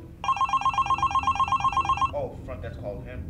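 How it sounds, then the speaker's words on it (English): A telephone bell rings loudly in rapid repeated trills for about two seconds and then stops, followed by a short stretch of indistinct voice-like sound. "when the phone rang"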